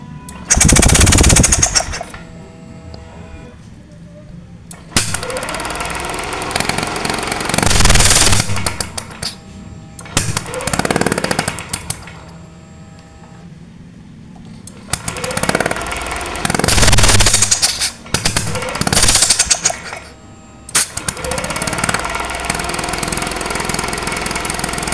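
Yamaha NMAX scooter engine spun on its electric starter with the spark plug removed, a loud rapid whirring chatter in repeated bursts of a couple of seconds each, separated by short pauses of quieter idle-like hum.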